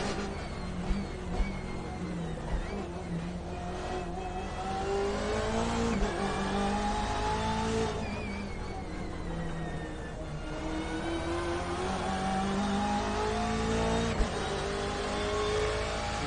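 A BMW M8 engine in the iRacing video game screams down the Nordschleife at high speed, with sustained high revs, repeated gear shifts and pitch sweeps, loud and continuous with no talk.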